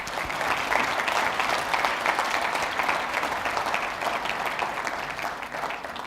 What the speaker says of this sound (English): May we give them all a round of a big applause.